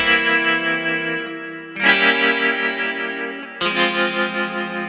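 Electronic keyboard voice layered with a bright 50s vintage pure tone, sustained chords struck three times and ringing with a chorus-like shimmer, each new chord entering sharply and decaying slowly, with no one speaking.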